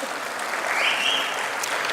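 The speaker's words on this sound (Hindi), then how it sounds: "ताली बजावा जोरदार भाई।" Steady applause fills the hall at a Yadav community event in Chhattisgarh, swelling slightly in the middle before holding level to the end.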